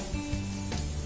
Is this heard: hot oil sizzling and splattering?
yes